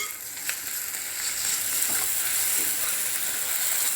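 Ginger garlic paste frying with onions in a hot pan for an ivy gourd masala, a steady close hiss of sizzling with faint stirring scrapes, no talking.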